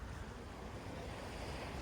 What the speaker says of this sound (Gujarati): આ દરિયો હાવ શાંત છે